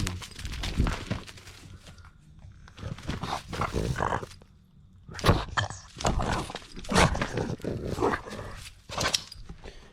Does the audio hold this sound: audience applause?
no